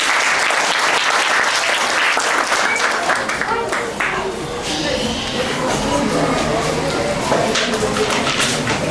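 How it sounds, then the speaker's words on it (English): Sustained applause from a class audience at a school presentation, a dense steady wash of many hands clapping close by that runs the whole stretch with a slight dip midway. "let's give them a big round of applause"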